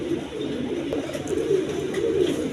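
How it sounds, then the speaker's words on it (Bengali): Two pigeons coo steadily in low, murmuring calls close at hand, with light background hiss and no talking. "বন্ধুগণ এখানে এক পেয়ার কবুতর আছে"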